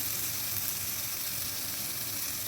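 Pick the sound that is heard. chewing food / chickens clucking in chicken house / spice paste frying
spice paste frying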